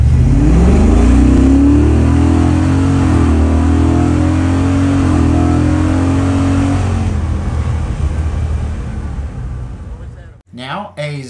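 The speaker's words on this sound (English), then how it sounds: "Here is a 20 to 75 mile per hour pull example." A 1981 Ford truck with a Godzilla engine swap accelerates hard from 20 to 75 mph, its loud engine drone climbing in pitch through the pull before easing off, with a short burst of speech at the very end.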